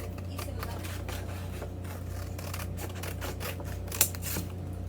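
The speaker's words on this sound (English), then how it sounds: "You're gonna need your scissors to cut it." Scissors snip through a paper plate for an angel craft, a run of soft, irregular cuts over a steady low hum, with one sharper click near the end.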